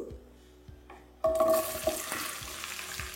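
Okra slides into hot white oil for shallow frying. After a quiet moment a sudden loud sizzle bursts up and keeps crackling as the okra settles in the pan, close by and with no voices.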